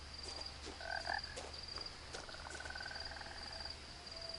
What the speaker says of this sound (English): I hear croaks. I hear ribbits.